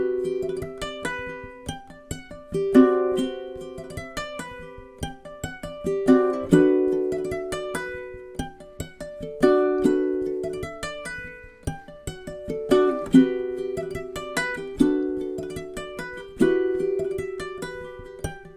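A ukulele plays a tune using tapping, with crisp plucked and tapped notes in rhythmic repeating phrases, close and clear with no voices.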